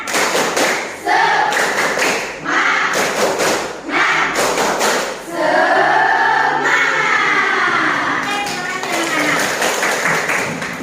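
A classroom of students performs a spirit clap, with bursts of loud rhythmic clapping and thumping in several waves, mixed with group voices chanting along and a teacher talking between them.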